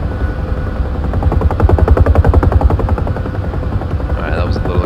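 A Huey helicopter flying in the DCS flight simulator, with a loud, steady rotor thump and engine drone filling the whole stretch and a slight rise in the middle.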